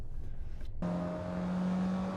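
A Mazda Miata race car on the Red Bull Ring accelerates hard at full throttle, a sudden loud engine note rising in steady, bright pitch after a brief quieter moment, with no voices.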